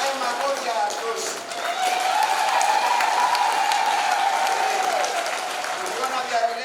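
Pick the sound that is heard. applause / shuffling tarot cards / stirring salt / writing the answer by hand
applause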